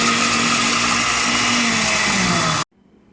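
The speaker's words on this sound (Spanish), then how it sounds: "vamos a poner los chicharrones aquí a la licuadora y los vamos a licuar para que se hagan como polvo" A kitchen blender grinds fried pork rinds (chicharrón) into powder, a loud steady whirring roar that runs alone for over two seconds before cutting off abruptly into near silence.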